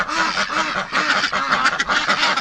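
Several female breeding ducks quack loudly and continuously in spring, their harsh overlapping calls forming a dense, close chorus with no talking.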